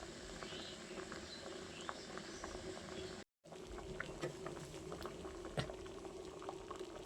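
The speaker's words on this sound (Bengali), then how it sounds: "দেখতে পাচ্ছ পুরোটা খুব সুন্দরভাবে ফুটছে" A pot of masoor dal bati chorchori, a Bengali red-lentil dish, bubbles steadily at close range with soft popping and gurgling throughout, broken only by a brief silent gap partway through.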